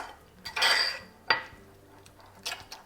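A spoon stirs a cauliflower marinade with freshly ground black pepper in a bowl, a few close scraping swirls and clinks against the dish, separated by quiet gaps and with no speech.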